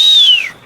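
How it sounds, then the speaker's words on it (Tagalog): A person whistles once, loud and close, to catch someone's attention: a single bright note that slides steadily downward and fades within half a second. "Sutsut lang ganun, tapos sabay sipol."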